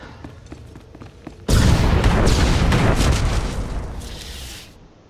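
A sudden loud explosion in Star Wars The Old Republic bursts in after a quieter stretch, then rumbles on for a few seconds before dying away.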